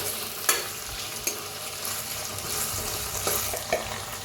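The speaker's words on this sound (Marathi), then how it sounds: "छान असं टमाटो भाजून घेऊया" Tomatoes mixed with seeds roast and sizzle in a pan, a steady frying hiss broken by a few sharp stirring clinks and scrapes, no one talking.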